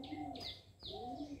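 Pigeons cooing in a garden, soft low repeated calls overlapping with brighter chirps from other birds, close and steady across the short stretch.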